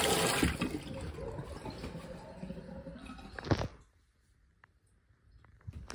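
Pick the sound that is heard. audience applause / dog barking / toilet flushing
toilet flushing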